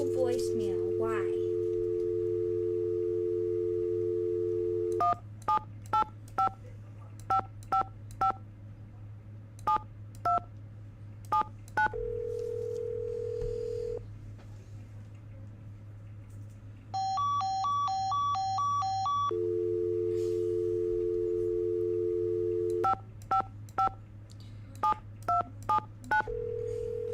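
In the Nancy Drew game Secret of the Scarlet Hand, rapid bursts of telephone keypad dialing tones alternate with stretches of steady dial tone over a low constant hum, with a brief high multi-tone signal partway through.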